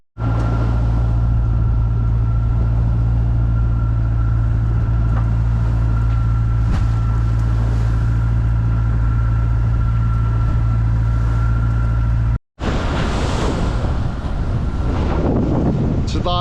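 Strong wind roars across the microphone on a sailboat in rough seas with growing waves, a loud, constant low rumble that cuts out briefly near the end, then returns with splashing water noise.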